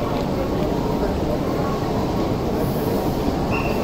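A Shinkansen train moving along a platform at JR Tokyo Station during the busy evening, a steady loud rolling rumble with faint wheel squeal and a brief high tone near the end.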